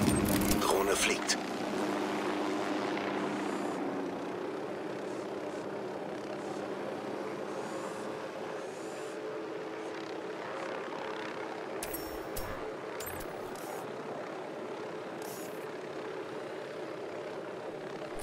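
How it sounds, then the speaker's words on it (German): A drone in the video game Ghost Recon Wildlands flies with a continuous engine hum, steady and moderately loud throughout, along with other in-game ambient sounds. "Drohne fliegt."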